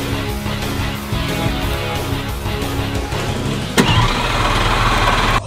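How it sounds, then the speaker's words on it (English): Car with a trash bag over its exhaust, engine running at a steady idle with a mechanical drone, then a sharp click and a louder, rougher engine note near the end. "you can apparently modify your car exhaust if you put a trash bag over it."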